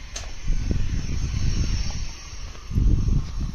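A farm tubewell water pump shuts off outdoors with low, rumbling bursts of mechanical noise and a windy, breathy hiss that swells, dips and swells again, with no talking.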